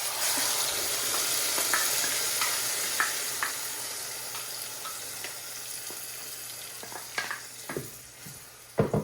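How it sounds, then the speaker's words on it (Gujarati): Gravy being added to roasted cumin in a hot pan for palak paneer, giving a steady sizzle that gradually settles, with sharper spatters and stirring clinks near the end. "હવે આજે મેં ગ્રેવી બનાવીને મૂકી છે, એ અંદર નાખીશું."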